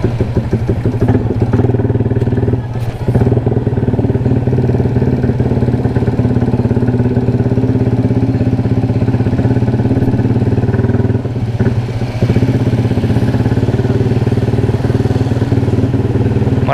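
A motorcycle fitted with an RMS aftermarket exhaust pipe with an added elbow idles steadily and loudly up close, a continuous low throbbing rumble with slight clattering and a couple of brief blips, no talking.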